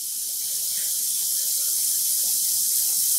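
Tap water pours steadily into a container to soak cotton yarn for home dyeing, a continuous close hissing rush that grows slightly louder as the clip goes on, with no talking.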